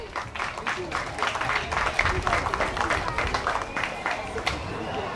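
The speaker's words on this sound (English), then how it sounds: "Once again, a round of applause to Vichans School" Applause from the audience at a school graduation ceremony, dense and steady for about five seconds, with some crowd murmur mixed in.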